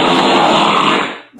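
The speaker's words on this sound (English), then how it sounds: "Someone's playing the fart noises over the stereo." A loud, sustained buzzy fart noise sound effect played back over a stereo, lasting over a second before tapering off, with no talking during it.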